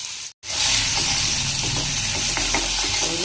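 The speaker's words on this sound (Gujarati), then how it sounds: "ડુંગળીનો કલર બદલાય ત્યાં સુધી આપણે ડુંગળીને સાતળીશું" Chopped onion sautés in hot oil with cumin, asafoetida and curry leaves for instant poha, giving a loud, steady sizzle after a brief silent gap, with faint scraping of stirring underneath.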